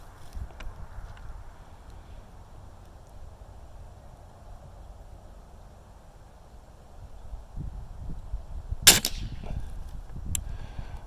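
A rifle fired at a target outdoors, a single sharp crack near the end of a quiet stretch with faint background rumble, followed by a softer thud.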